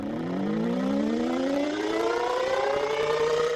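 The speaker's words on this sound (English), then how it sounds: "If you hear a siren, there's something critical that's happening in your community." A civil defense warning siren winds up steadily, its rising wail climbing in pitch and holding loud and continuous throughout, with no voices.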